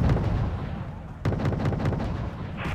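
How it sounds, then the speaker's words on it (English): Artillery fire in the Wargame Red Dragon video game: a continuous rumbling barrage of heavy booms, with a sharp fresh burst of blasts about halfway through and dense, loud low thuds throughout. "Oh, that's my artillery."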